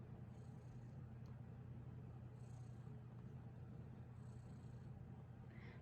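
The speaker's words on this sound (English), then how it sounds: "And he's just purring away" A small kitten purring close up, a soft continuous low rumble that stays faint and steady throughout.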